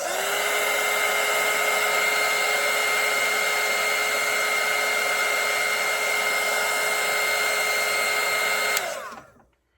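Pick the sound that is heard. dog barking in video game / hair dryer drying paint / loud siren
hair dryer drying paint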